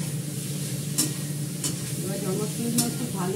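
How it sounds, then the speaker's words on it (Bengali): Pointed gourd (potol) sizzles and fries in a pan, producing a steady, close hiss of oil with a few sharp stirring scrapes of a utensil against the pan. "পটলটাকে ভালো করে লাল করে ভেজে নিয়েছি"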